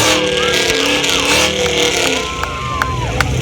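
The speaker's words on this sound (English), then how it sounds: "All right, you guys ready to hear this Hellcat?" Dodge Charger Hellcat revving at an outdoor car show exhaust competition, a loud continuous engine roar with rising and falling pitch sweeps and a few sharp pops, crowd noise and voices around it.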